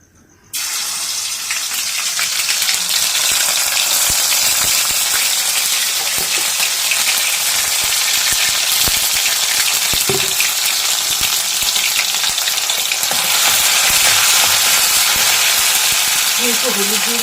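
Ginger-garlic paste frying in hot mustard oil for samosa filling: a loud, steady, dense sizzle that starts abruptly and continues unbroken, with faint scraping stirs.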